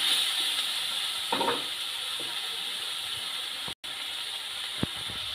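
Green chillies fry with brinjal in a pan, giving a steady, fairly loud sizzling hiss throughout with a few faint stirring scrapes and one brief dropout.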